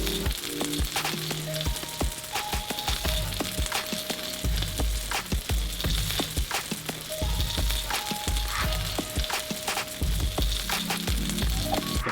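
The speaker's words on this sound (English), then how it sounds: "caramelized Granny Smith apples sauteed in heaps of vegan butter, coconut sugar, and cinnamon." Granny Smith apples sizzle steadily in a pan with vegan butter, coconut sugar and cinnamon, a continuous close frying hiss with occasional stirring clatter and light music beneath.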